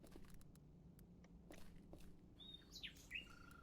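Toward the end, a bird chirps in two or three quick bright tweets as a cue in a video game sound puzzle, after a stretch of faint clicks and soft rustling over a low hum.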